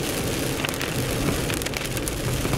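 Rain drums steadily on a car roof and windshield while driving, a dense, even patter with low road rumble beneath and no voices.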